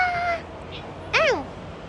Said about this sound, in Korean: 옥상에 고양이가 있거든요